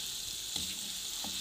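Finely crushed ginger and garlic fry in oil in a pan, giving a steady close hiss of sizzling with a couple of soft stirring knocks, and no talking.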